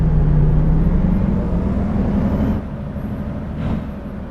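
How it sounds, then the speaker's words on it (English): A Mack Anthem semi truck in American Truck Simulator engages its Jake brake, a deep, steady engine rumble with a rough, pulsing edge that is loud and close at first, then drops a little and holds lower. "You can kind of hear the J brake a little bit right there."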